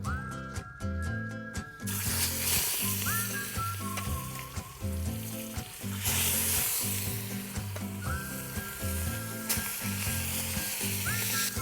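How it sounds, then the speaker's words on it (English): Steady sizzling of olive oil frying in a three-legged cast iron potjie pot, a crackling hiss running throughout under rhythmic background music with tonal beeps and pulses. "Olive oil, wait for the oil to sizzle."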